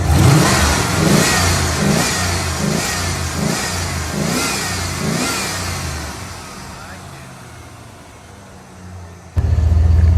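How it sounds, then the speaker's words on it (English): An old Ford truck engine running and being revved several times in quick succession, loud and close, then settling to a quieter idle; someone talks over it. "This motor runs great."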